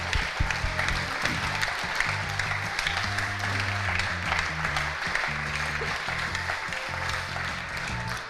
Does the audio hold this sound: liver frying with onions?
no